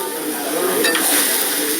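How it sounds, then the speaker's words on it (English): Steady sizzling hiss of a plant-based burger cooking, with a brief clink of cookware partway through, close and fairly loud. "All the satisfying sizzle of a burger"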